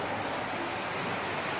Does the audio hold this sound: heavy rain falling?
yes